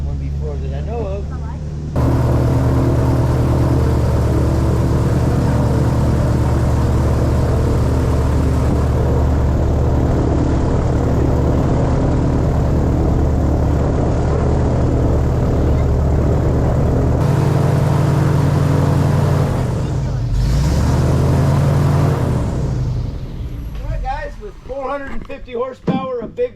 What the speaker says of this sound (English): Horsepower, a big block 454 Chevy here behind us.